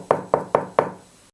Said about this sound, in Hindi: किसी ने मुख्य दरवाजे पर दस्तक दी।